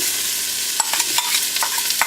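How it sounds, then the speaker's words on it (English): Onions and bay leaves sautéing in olive oil in a pot, a steady sizzle with several brief spoon scrapes and clinks of stirring, close and alone. "we're just going to let these saute for a while"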